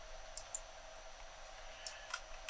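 Computer mouse clicks while working in Unreal Engine 5.3 road tool settings, a few faint, sharp isolated clicks over quiet room hiss.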